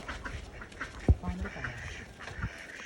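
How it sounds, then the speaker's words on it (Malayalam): Ducks quacking in a loose group at moderate distance, scattered calls over a quiet background with one sharp knock partway through. "താറാക്കൂട്ടം"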